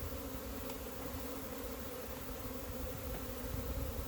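Honey bees hum at an open hive during a spring inspection, a steady close-up buzz that holds its level throughout without voices.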